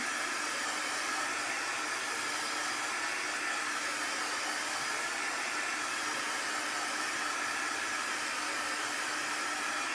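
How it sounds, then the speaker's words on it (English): A hair dryer on its cool setting dries chalk paint on a palette board, a steady, loud, even whoosh of blowing air that runs without a break, heard alone. "A hair dryer works just fine. Use cool temp."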